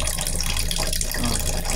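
Household tap water running into a bathroom, its pressure controlled by the water utility; a steady, close rushing hiss of flowing water with slight fluctuations.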